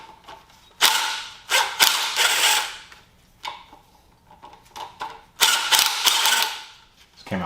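A ratchet works 10mm bolts loose from a pulley on a Mitsubishi Evo 4G63T engine, giving several loud bursts of rapid clicking separated by short pauses and quieter handling noises, with no talking.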